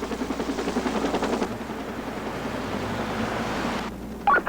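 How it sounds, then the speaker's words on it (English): A police helicopter hovers over Denver, its rotor giving a fairly loud, steady chopping pulse. Near the end comes a brief higher burst. "I immediately bring the helicopter to a hover to take pictures of the arrest."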